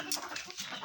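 A hen clucks softly before laying an egg, a quick faint burst of short clucks heard up close with nothing else over it.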